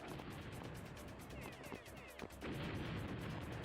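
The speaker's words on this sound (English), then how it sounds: "Oh, something's shooting me." Gunfire striking the player in a video game, a quick run of muffled shots and impacts under a continuous game soundscape, moderately loud and without speech.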